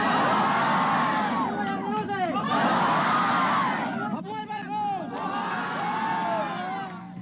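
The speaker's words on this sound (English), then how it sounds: "She was helped onto an old table and the crowd saluted her." A large crowd gathered around Imelda Marcos during her exile in Hawaii cheers and shouts in loud, continuous waves, with excited voices rising and falling in several bursts throughout.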